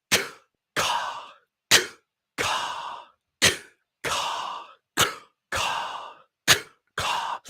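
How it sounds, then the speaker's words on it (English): A series of about ten breathy, percussive k-like bursts alternates steadily, sharp catches followed by longer airy exhalations, close and isolated. "the k sound as you breathe in and breathe out."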